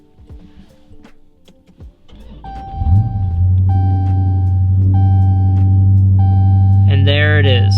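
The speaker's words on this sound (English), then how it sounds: "Let's turn the car back on." A Dodge Charger or Challenger fires up: after a few faint clicks and chimes, the engine cranks and catches with a loud rising roar, then settles into a steady deep idle with repeated electronic chimes, and a voice speaks briefly at the end.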